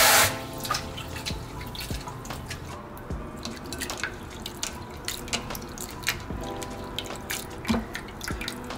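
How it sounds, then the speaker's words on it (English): Sea moss is washed by hand in a basin of water to remove debris, giving close, continuous sloshing, dripping and splashing with irregular squishy handling sounds throughout. "you just want to wash it as many times as possible to remove the debris"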